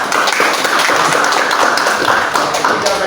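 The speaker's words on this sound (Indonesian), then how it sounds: "Kita tepuk tangannya" Classroom applause for a student, a dense steady patter of many hands clapping at once, continuous and fairly loud for a few seconds with no talk over it.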